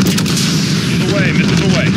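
An aircraft's 30mm cannon gun run in the Call of Duty Modern Warfare game makes a loud, dense burst of heavy rapid fire with rumbling impacts, and radio voices come through over the din.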